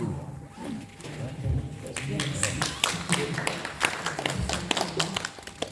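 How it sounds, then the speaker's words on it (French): Audience applause at an association's general assembly in Pont-de-Metz: a burst of many hands clapping rises after a brief lead-in and carries on steadily through the room, with voices talking over it. "Tu lui transmettras les applaudissements parce qu'il les mérite"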